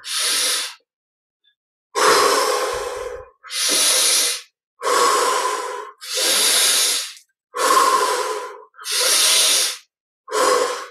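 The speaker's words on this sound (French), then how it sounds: "Cinq dernières respirations. Encore un peu plus d'air si on peut." Deep breathing during a guided meditation, eight slow, loud airy inhales and exhales close to the microphone, separated by short silent pauses.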